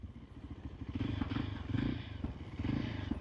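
A motorcycle ridden off the tarmac along a coastal roadside between Lamu and Malindi, its engine a steady low drone while the tires crunch and clatter over loose ground, near and continuous with no talk.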